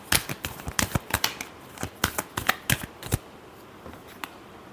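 Tarot cards being shuffled by hand, a quick run of crisp riffling snaps and flicks in an uneven rhythm, close and fairly soft, with no talk.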